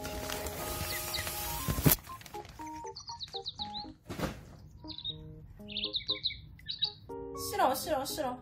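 A talking parrot toy gives repeated electronic chirps and squawky tweets in short bursts, starting after a loud noisy rush; the chirps are close and fairly loud, with speech-like warbling near the end.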